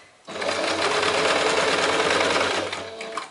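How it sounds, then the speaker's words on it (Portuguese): Sewing machine running steadily for about three seconds while stitching the side seam of a fabric pouch, close and loud, with no talking over it. "eu vou fazer uma costura em uma das laterais. Faço a costura para prender"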